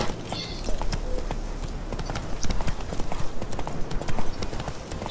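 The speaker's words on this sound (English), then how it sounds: "Let's get on our horse and take a ride back instead of fast traveling." Horse hooves galloping in the video game The Witcher 3, a fast rhythmic clip-clop of hoofbeats running steadily and fairly close, with light game ambience under it and no voices.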